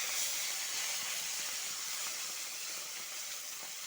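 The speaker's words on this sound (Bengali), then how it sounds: "তেলটা গরম হয়ে গেছে ছেড়ে দেবো পুঁটি মাছটা" Small puti fish dusted in rice flour hit hot oil in a kadai for a light fish curry, giving a steady, loud, hissing sizzle that fills the whole stretch with no talk.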